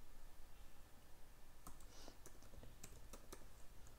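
Someone types code on a computer keyboard, producing quiet, irregular key clicks in a low-level room hum.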